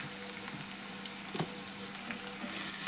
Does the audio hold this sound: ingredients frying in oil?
yes